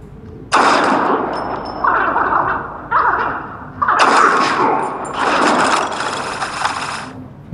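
Rapid bursts of video game gunfire, loud and close, come in several separate salvos with short pauses between them and a sustained barrage at the end.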